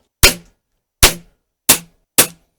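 Four sharp, loud shots from a Diana P5 Magnum air pistol, each a crisp crack with a short decay, spaced irregularly with silence between them.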